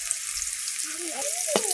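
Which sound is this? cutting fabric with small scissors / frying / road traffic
frying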